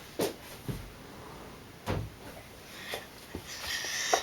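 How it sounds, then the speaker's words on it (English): A room door swings shut in a quiet bedroom, a few soft knocks and bumps spaced over several seconds with a faint rustle toward the end, no voices. "I'm gonna close my door for a second"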